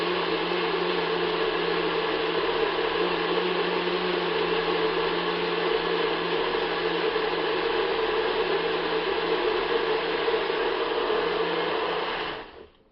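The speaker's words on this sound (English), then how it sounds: "this is a high-powered blender." A loud, steady motor whir runs continuously for about twelve seconds, then cuts off abruptly, like a high-powered blender spinning at full speed.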